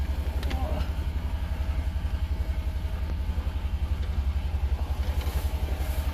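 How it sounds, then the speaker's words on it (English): A car engine idles with a low, even throb that pulses in a rapid, steady rhythm, fairly quiet and close, with faint background noise and no clear talk. "The engine's going to die here in a second."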